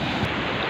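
Rough, deep sea waves surging near the shore, a brief burst of loud broadband wash mixed with wind buffeting the microphone.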